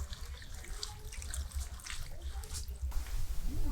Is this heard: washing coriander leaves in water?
yes